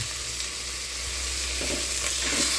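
Meat sautéing in a pan for a Filipino monggo, jackfruit and pork hock dish, a steady close sizzle running throughout with a few faint stirring scrapes near the end.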